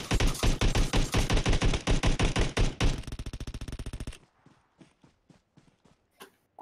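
Automatic gunfire in the mobile battle royale game PUBG Mobile, a loud, rapid stream of close shots that speeds into a faster burst, then breaks off into a few scattered, quieter pops.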